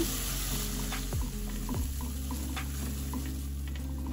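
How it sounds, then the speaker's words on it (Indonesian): A spice paste with mushrooms sizzles and fries steadily in a pan with occasional stirring scrapes, close and continuous, with a constant high whine in the background. "ini ditumis sampai wangi dan benar-benar matang"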